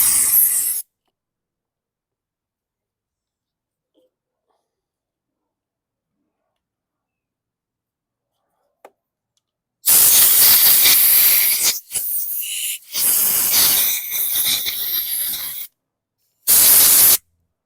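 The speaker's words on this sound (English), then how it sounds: "Now I'm gonna blast out some of the moisture that's in here." Compressed air blasts moisture out of a mower part in harsh, loud hissing bursts: a long spray, a short one, another sustained blast, then a final brief burst, all after a long quiet stretch.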